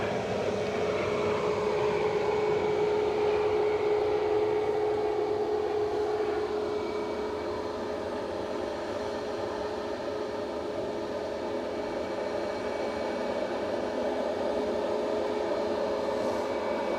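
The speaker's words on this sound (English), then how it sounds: "EasyJet inching forward for its departure" An EasyJet airliner taxiing for departure at Edinburgh Airport gives a steady, loud jet engine whine and broad roar that holds evenly throughout, with a high tone slowly shifting and no talk.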